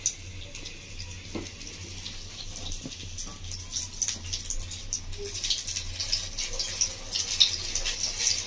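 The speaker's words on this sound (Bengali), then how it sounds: "তেল গরম হয়ে গেছে বন্ধুরা, ঠিক এইভাবে করে ছোটো ছোটো করে আমি ছেড়ে দেবো তেলের মধ্যে।" Small mushroom pakora fritters dropped into hot oil over a gas flame give a steady, close sizzling crackle with brief bursts of spatter, heard alone without talk.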